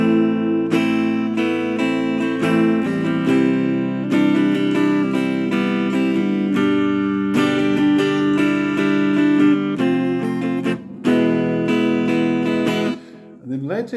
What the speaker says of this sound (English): Introduction strumming should sound something like this.